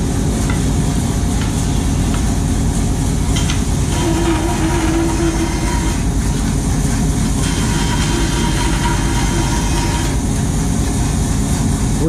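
A Jet 20-inch band saw with a 1/2-inch blade running and cutting through walnut, a loud, steady low roar and whir with continuous rasping, close and unbroken throughout.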